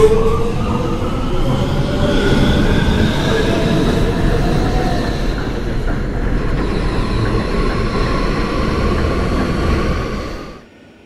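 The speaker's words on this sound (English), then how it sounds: "This is a Brooklyn-bound A Express train." An R211A subway car on the A Express along 8th Avenue pulls away from 34th Street–Penn Station in the OpenBVE train simulator, a steady loud rumble of motors and wheels with rising whine tones and faint squeal before fading out at the end.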